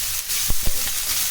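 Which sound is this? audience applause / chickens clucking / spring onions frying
spring onions frying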